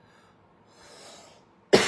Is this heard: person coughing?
yes